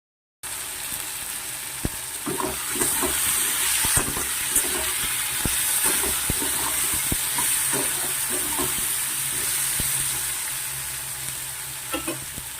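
Turmeric powder goes into food frying in a pan, giving a steady close sizzle with brief crackles and stirring scrapes throughout, no talking.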